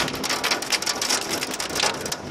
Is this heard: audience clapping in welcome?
no